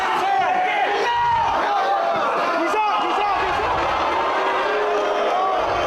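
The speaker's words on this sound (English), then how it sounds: "the crowd voicing their displeasure" Wrestling arena crowd groaning and shouting in displeasure during a Bryan Danielson versus Nigel McGuinness match, a loud sustained roar of many voices filling the hall.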